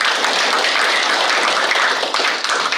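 An audience at a lecture gives a dense, sustained round of applause to welcome a journalism professor, steady and fairly loud throughout with no talking.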